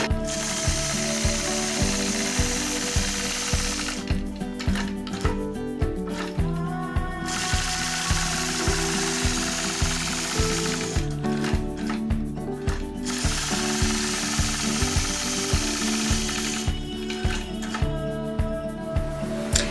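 A sewing machine stitches during free-motion quilting with a ruler, giving a steady, close mechanical clatter of rapid stitches in long bursts, broken by short pauses where the needle stops.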